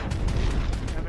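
Gunfire in the video game Red Dead Redemption 2 during an epilogue shootout: about five sharp shots in quick, fairly even succession, loud and close over a dense, rumbling low-end mix.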